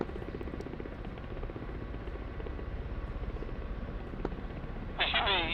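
Ka-50 Shark helicopter in a flight simulator game, a steady rotor and turbine drone running continuously at moderate level, with a brief tonal alert near the end.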